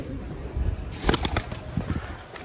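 Pigeons coo softly from inside a cage, low rounded calls under a hiss of background noise, with a brief flutter and a few sharp knocks in the middle.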